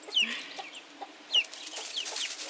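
A hen gives soft, short clucking calls to her chicks outdoors, a couple of brief bursts with quieter chatter in between, heard alone at moderate distance.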